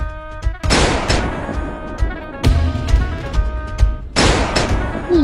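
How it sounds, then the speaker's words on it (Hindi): Gunfire in a Hindi action film scene: three sharp, loud broadband blasts roughly a second or two apart, each with a ringing tail over a dense, reverberant music-and-effects bed. "राम तो गोली चला गए।"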